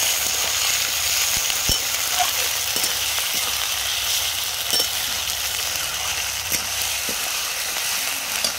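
Onion browned red in oil sizzles steadily with garlic paste, ginger paste and tomato added for a Bengali cauliflower and rui fish curry, a constant moderate frying hiss with occasional small spatters and stirring taps.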